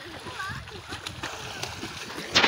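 Children splash in dirty open water outdoors, with irregular splatters and sloshing near the mic, voices talking over them and a sharper burst of splashing at the end.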